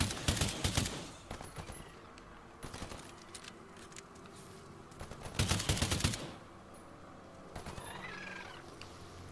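Gunfire in the video game Earthfall, several short bursts of rapid shots spaced a few seconds apart, loud and close against a lower steady background, no talking.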